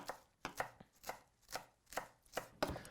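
A knife chops vegetables on a cutting board while Persian crispy rice (tahdig) is prepared, with about eight sharp, evenly spaced cuts up close and no talking.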